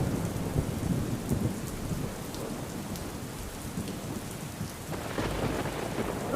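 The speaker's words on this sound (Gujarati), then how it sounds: "ભરૂચના અંકલેશ્વર અને હાંસોટ પંથકમાં આજે સવારથી જ જે ધોધમાર વરસાદ છે તે વરસી" Heavy monsoon rain pours down steadily over Ankleshwar and Hansot in Bharuch, a dense continuous roar with low rumbles of thunder underneath and no voices.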